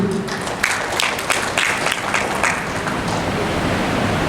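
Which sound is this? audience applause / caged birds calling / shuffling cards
audience applause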